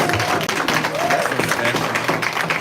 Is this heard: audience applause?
yes